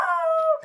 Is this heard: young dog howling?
yes